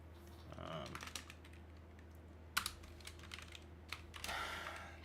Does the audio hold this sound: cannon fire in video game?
no